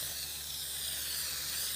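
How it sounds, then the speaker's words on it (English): Permatex spray adhesive hisses from an aerosol can onto a car headliner and board in one continuous, even, broadband spray, steady and close with no talking. "I'm going to do is lay the adhesive down, spray adhesive"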